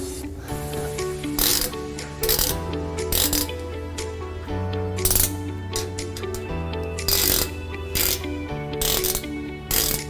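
A ratchet tightening bolts while a Xante X-16 printer stand is assembled gives loud, close, continuous clicking in repeated bursts, with a few sharper metallic bangs, and no talking.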